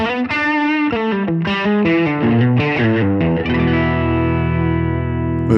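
Electric guitar through a ToneX version 1 amp tone model, driven and distorted with a chorus-like sheen, playing a quick run of picked notes that settles into sustained ringing chords, loud and close with no talking.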